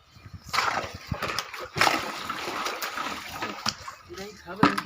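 Water sloshes and splashes out of a large bucket during home cement-mixing work, in several uneven bursts close by, with people talking over it.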